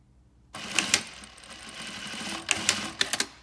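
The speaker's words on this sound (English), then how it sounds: "Now to prove this, I can sew down" An AE-SLS-7 louvre sewing machine runs close up with a steady whirring hum, broken by sharp clacking bursts as it sews and trims the material at the end.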